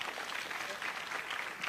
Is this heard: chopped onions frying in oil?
no